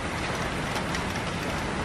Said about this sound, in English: You guys hear the rain?